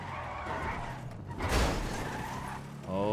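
Car tires skid and scrape on the road while driving in GTA 5, a continuous loud smear of tire noise that swells briefly in the middle before easing back.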